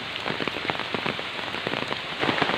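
Steady rain patters densely on surfaces near a spot where Chinese and local ducks bathe, a close, even wash of drops with no talk.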